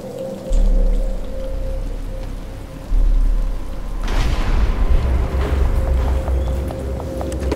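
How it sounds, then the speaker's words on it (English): Steady rain falls in the Batman Arkham Asylum video game, a constant hiss of drops with low rumbling swells and a sudden burst of heavier splashing partway through, with no talk. "it's starting to rain"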